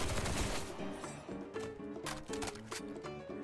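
Gunfire in the video game Duet Night Abyss, a quick series of rhythmic, fairly quiet shots popping close together over a musical backdrop.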